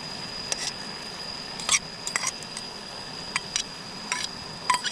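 Blanched meat being stirred in a pot: scattered light scraping and clinking taps of a utensil against the pot, irregular and close, over a steady faint background hiss.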